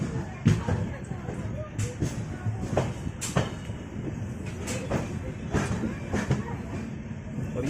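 A train pulling into Jammu Tawi railway station rolls in with heavy clattering thumps and wheel knocks at an uneven rhythm, close and fairly loud, over a low rumbling bed with faint background voices.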